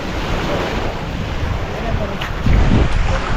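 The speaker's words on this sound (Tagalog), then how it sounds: "Lakas ng hangin." Strong wind roars steadily across the microphone, a dense broadband rush that swells louder toward the end, with surf-like noise underneath.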